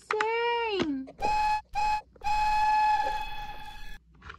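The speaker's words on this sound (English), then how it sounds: "You hear that whistle?" A steam tank engine's whistle sounds in several close blasts: a bending first toot, two short hoots, then a long sustained blow.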